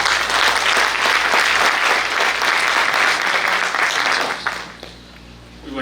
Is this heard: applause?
yes